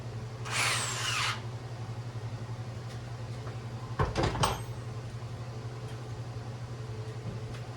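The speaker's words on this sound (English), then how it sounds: "we're going to drill a 17/64 hole in here for the LED light" A power drill fitted with a 17/64 bit opens a hole for an LED light in a Baja kill switch install. It gives one short whirring burst, followed by a few knocks and clatters from handling.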